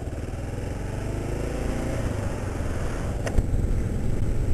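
Steady mid-pitched drone of a dual sport motorcycle cruising along a back road on the way to a river, engine hum constant and close with a brief sharp transient near the end.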